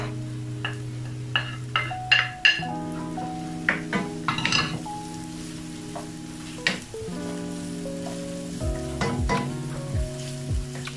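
Onions and chili frying with mixed seafood, including crab, in a pan produce a strong close sizzle broken by frequent clanks and scrapes of a utensil against the pan.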